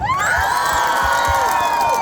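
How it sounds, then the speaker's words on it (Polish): At an outdoor concert in Żnin, the audience roars with cheering, whoops and shouts mixed with applause, a dense, loud, continuous crowd sound with high voices rising through it. "Brawa dla was."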